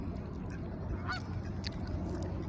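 Geese honk and ducks call by a marina on the bay, a few brief honks rising over a steady outdoor wash of wind and distant background noise, fairly faint and without talk.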